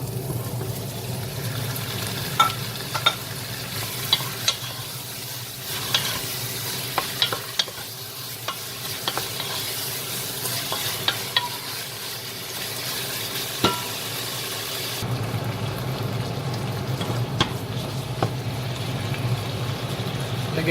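Beef fries with onion in a pan for beef caldereta, a steady close sizzle punctuated by occasional clicks and scrapes of stirring, continuous throughout without talk.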